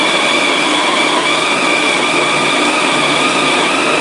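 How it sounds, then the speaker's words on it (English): An electric coffee grinder grinding beans, a loud, continuous whirring grind with a steady high mechanical whine, running without a break for the whole stretch. "so I can close the door to grind my coffee"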